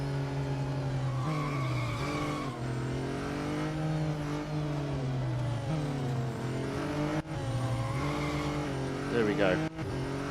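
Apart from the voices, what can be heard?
race car driving in video game Real Racing 3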